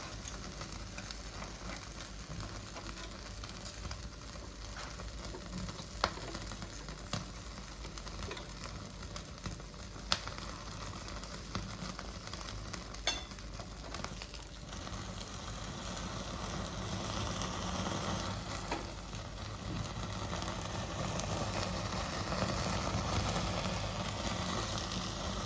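Pieces of chicken tikka sizzle quietly in a hot pan with a soft, constant crackle and a few faint clicks as they are turned over, growing slightly louder toward the end, with no voices.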